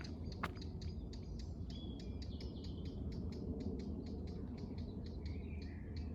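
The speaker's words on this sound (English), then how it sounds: "Oh, it's a bird's noise." Outdoors, a bird gives a rapid series of high, ticking chirps at a steady rhythm with a few longer whistled notes, moderately close over a constant low background rumble.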